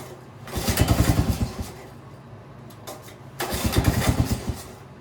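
A Honda small engine is pulled over with the choke on, giving two rhythmic bursts of cranking chugs separated by a pause, loud and close without catching.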